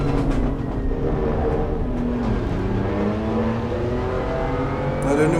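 A race car in the Assetto Corsa Competizione racing game accelerates at Laguna Seca, a loud engine note rising in pitch through the gears with a hard, continuous roar.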